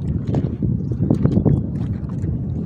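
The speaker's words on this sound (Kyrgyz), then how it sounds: "Могул жактан соккон шамал" Wind gusting around a cave on a mountainside, buffeting the microphone with uneven low rumbles and flutters, fairly loud and without speech.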